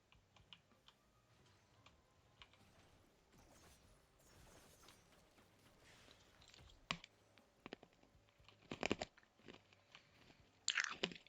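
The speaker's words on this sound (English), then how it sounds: "I'm sorry I'm chewing candy in your guys' ear" Candy is chewed close to the mic in crunchy, irregular bites, with soft keyboard-like clicks scattered through and louder crunches clustered near the end during a Risk of Rain 2 gaming session.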